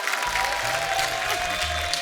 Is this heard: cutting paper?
no